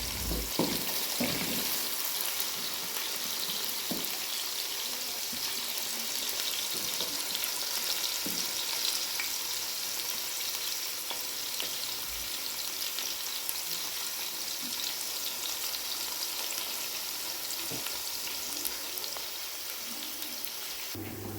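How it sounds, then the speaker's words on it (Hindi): Onions brown in hot oil for mutton pulao, a steady close sizzle with scattered crackles and pops throughout, heard alone without talk. "देखिए अब हमारा ये प्याज ब्राउन होने वाला है"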